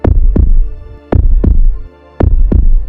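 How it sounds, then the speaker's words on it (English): Heartbeat sound effect pounding loud and close in a steady lub-dub rhythm, three double beats with brief gaps, set in a sterile clinic waiting room. "her heart pounding in her chest"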